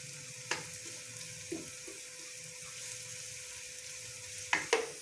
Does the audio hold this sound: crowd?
no